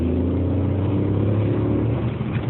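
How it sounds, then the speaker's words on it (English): Aston Martin car engine running on a track: a loud, steady, close mechanical drone with a firm low hum that holds evenly and dips slightly near the end, heard alone. "I've got to see this Aston Martin engine"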